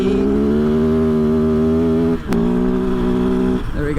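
A 2023 Kove FSE 450R Rally dirt bike engine revs high and steady, dips briefly, then holds its loud buzzing drone before easing off at the end.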